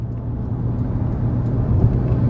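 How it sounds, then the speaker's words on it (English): A 2016 Ferrari California T with a 3.9-litre twin-turbo engine cruising on the road, a steady low engine drone and road rumble heard from inside the cabin, with no speech. "let's just go ahead and take this 2016 Ferrari California T out on the road for a quick test drive"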